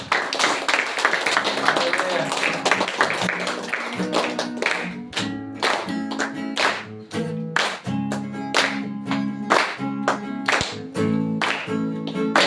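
Congregation clapping during an online prayer and worship service, rhythmic hand claps in a steady beat alongside music, moderately loud and continuing throughout the clip without talk.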